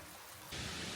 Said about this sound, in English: Pouring rain, a bit atmospheric, but I do like it.